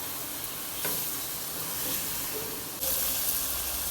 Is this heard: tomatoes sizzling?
yes